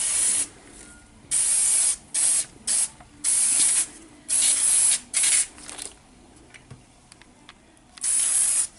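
Cleaner sprayed into a Paslode framing nail gun comes as about eight sharp, loud hissing bursts of varying length, separated by short quiet gaps with faint handling noise.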